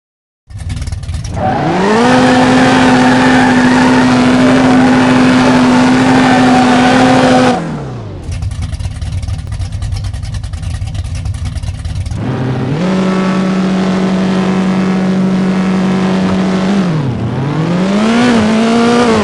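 A drag car engine in the No Limit Drag Racing video game roars loudly and climbs in pitch during a pass, cuts out briefly, then revs up again and drops as the run continues.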